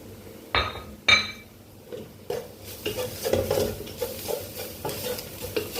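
Spices, then tomato paste, stirred into meat sizzling in a pan, with a couple of sharp utensil clinks against the pot at the start followed by steady frying hiss and repeated scraping stirs.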